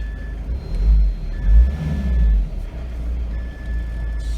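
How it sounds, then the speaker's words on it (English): A 2021 Force Gurkha SUV's 2.6-litre diesel engine turns over and catches, revving in a few low rumbling surges before settling into a steady idle, close up with a faint tonal whine. "All right, we are cranking up the engine now."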